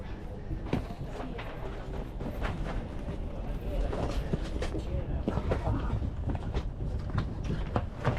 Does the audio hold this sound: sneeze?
no